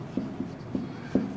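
Chalk or marker writing on a board during a physics lesson on capacitors, giving four short scratchy strokes in a quiet room with no talk.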